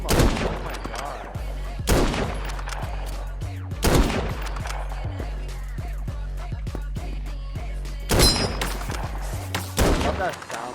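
Rapid gunfire from a rifle resembling an M1 Garand in the online shooter Krunker, with bursts of loud sharp shots repeating across the clip alongside game sounds.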